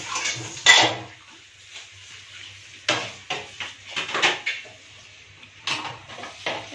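Dishes being washed at a sari-sari store, with irregular clinks and clatters of plates and utensils amid faint splashing water, close by and intermittent.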